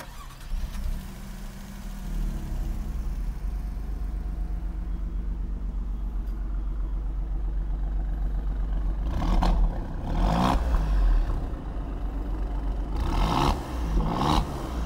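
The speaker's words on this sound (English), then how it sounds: "listening to the exhaust in this car, you may have noticed that there was a little bit different pitch" A 2020 Alfa Romeo Giulia Quadrifoglio idles with a deep, steady exhaust rumble, then gives a few sharp revs near the end that swell and fall away, heard close with no talking.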